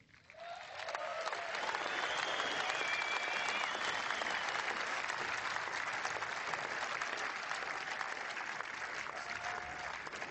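A large audience breaks into sustained, dense applause for champion golfer Henrik Stenson at the 145th Open trophy ceremony. It rises quickly at the start and holds steady and loud throughout.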